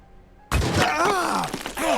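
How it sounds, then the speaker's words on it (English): A grenade is thrown and detonates in the turn-based tactics game Phoenix Point, a sudden heavy thump after near silence followed by rumbling debris and creature groans, with a voice audible amid the blast. "Let's get a regular grenade out for the remaining bit."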